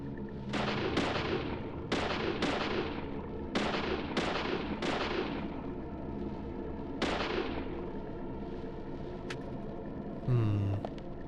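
Gunshots ring out in the video game Deadly Premonition as shots are fired at ceiling lights: about eight sharp, echoing cracks, some in quick pairs, spaced over several seconds, followed by a brief clatter near the end.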